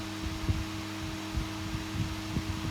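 A small cooling fan from an HP 8672A instrument runs after repair, humming steadily at close range with a rhythmic knocking throb where it touches a table.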